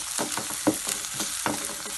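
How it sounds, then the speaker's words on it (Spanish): Garlic cloves sautéing in a pan for Venezuelan pabellón, a soft steady sizzle with a few brief stirring scrapes, close and moderately loud, no voices. "Sofreímos también los dientes de ajo"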